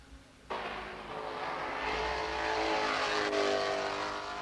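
A Volvo touring car on a 1980s race circuit, low on fuel, pulls into the pits with a sudden loud engine roar that holds steady and slowly shifts in pitch as it passes close by.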